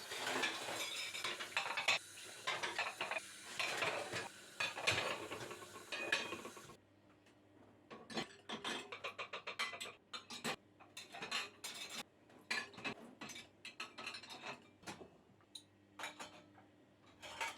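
Dishes and cutlery clink and clatter in irregular bursts, with running water rushing at first, then scattered knocks and scrapes of utensils.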